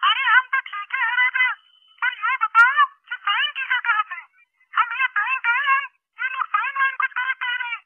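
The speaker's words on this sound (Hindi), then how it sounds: "हमारी गर्लफ्रेंड बिजली का फोनवा भी आ गया" A phone ringtone plays a bright, warbling electronic melody in repeated bursts with short gaps, loud and close, and no speech over it.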